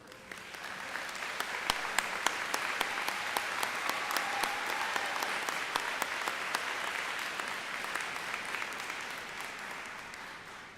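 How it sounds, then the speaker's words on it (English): Sustained applause from a large audience at a high school and adult education graduation ceremony, a dense, even wash of clapping that holds steady for the whole stretch, with a few sharper individual claps standing out. "please stand up and get a round of applause"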